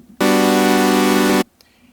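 A basic saw wave patch in the Serum synthesizer with no effects holds a single bright, buzzy, harmonically rich note for just over a second, starting and stopping abruptly and standing alone.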